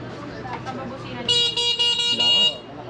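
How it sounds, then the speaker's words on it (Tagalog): An electric bike's horn honks in a bright, buzzy blast of about a second, loud and close, after a short stretch of talk. "Busina."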